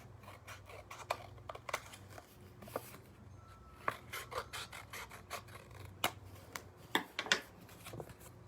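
Scissors trim the end of a paper bookmark in a run of quiet, close snips and rustles, scattered unevenly against a faint low background hum.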